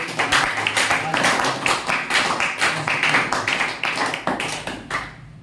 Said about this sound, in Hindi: कृपया ताली बजा दीजिए